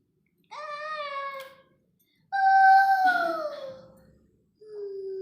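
A cat meows three times: two long, drawn-out calls with a falling pitch, then a shorter one. The meows are clear and close, with silence between them and no talk.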